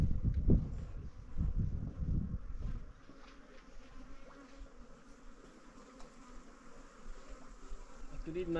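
Many bees buzz around a mountain water spring, a steady, faint insect drone that continues throughout. Gusty wind rumble comes through strongly in the first few seconds.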